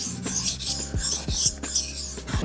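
A kitchen knife blade is drawn across a whetstone in repeated rasping strokes, several close scrapes in an even back-and-forth rhythm with no talk.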